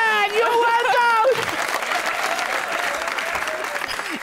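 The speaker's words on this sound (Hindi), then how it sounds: "ढेर सारी तालियां" Studio audience applause on a Pakistani TV talk show, dense steady clapping that starts under a brief voice and then carries on loud and sustained alone.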